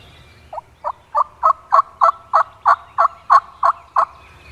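Wild turkeys gobbling in the Ohio woods, a series of about a dozen evenly spaced, rapid gobble bursts rising in strength, fairly close and alone over a quiet background.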